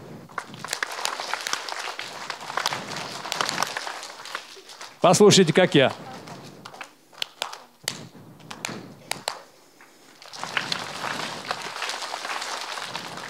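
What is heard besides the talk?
rhythmic hand clapping: two sharp claps, then long ones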